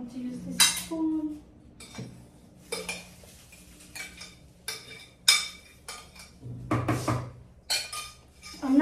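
A utensil folds egg whites into cake batter in a bowl, giving irregular scrapes, taps and clinks against the bowl's sides, moderately close and fairly quiet.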